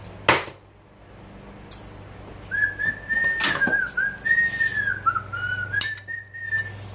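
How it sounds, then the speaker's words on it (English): A person whistles a wavering, sustained tune in a home kitchen while making biscuits, with a few sharp clatters of utensils before and during it. "Y'all hear me whistling?"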